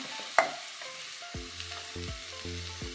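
Chopped capsicum, carrot and other vegetables drop into a pan for a North Indian sabzi with one sharp knock, then sizzle softly while a spoon scrapes and stirs them in repeated strokes, close and low in volume.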